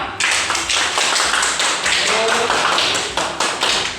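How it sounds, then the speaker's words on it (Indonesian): A classroom of students claps together for everyone, a dense, steady patter of many hands close by with a light rhythmic pulse, sustained throughout. "tepuk tangan dulu untuk semuanya"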